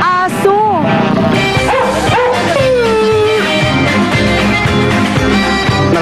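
Several dogs at an outdoor summer dog camp on a mountain in Laguna, yipping and barking with rising, whining howl-like cries over steady crowd noise and voices.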